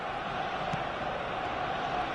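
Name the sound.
stadium crowd noise in a football video game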